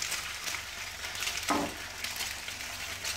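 Eggs frying in a pan of oil, country style, a soft steady sizzle with a faint stir or clink midway, quiet and close with no talk.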